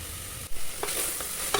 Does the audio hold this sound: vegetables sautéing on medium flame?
yes